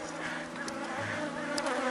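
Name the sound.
honey bees buzzing at a hive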